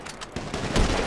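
A quick burst of several gunshots in the video game GTA 5 during a runners-versus-snipers race, crackling and fairly close, heard alone.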